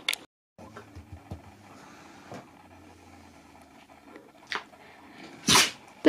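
A husky dog sneezes, a sharp, close burst standing out near the end, with another brief snort earlier, against a quiet indoor background with faint rumbling.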